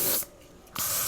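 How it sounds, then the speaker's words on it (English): Deodorant aerosol sprays at a bug in two short, close bursts of hiss separated by a brief pause. "spraying a bug with deodorant"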